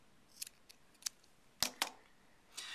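Scissors snipping the excess tail off a knotted rubber band on a rubber band motor, a few short crisp cuts spaced irregularly, close and quiet with no talking.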